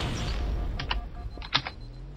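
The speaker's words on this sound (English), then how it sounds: "I love seeing those guys go boom with the needler." A Needler firing in Halo: Combat Evolved, heard as a quick irregular cluster of sharp, snappy pops over a low rumbling battle background, with no voices.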